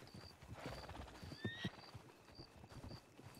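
Horse hooves clip-clop in a steady rhythm alongside a stagecoach, faint and at a distance, with soft chiming tones above and a brief whinny-like sound partway through.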